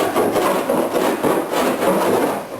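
A large wood rasp scrapes back and forth over a workpiece, knocking down burrs in a continuous, gritty, close-up rasping with a steady rhythm and no talk.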